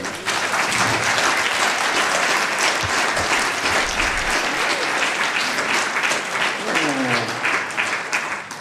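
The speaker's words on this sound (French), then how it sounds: "Vous pouvez applaudir, Simona, ça va là." A concert-hall audience claps steadily and loudly throughout, a dense, sustained wash of applause before a Roma-themed show in Toulouse, with a few voices faintly audible underneath.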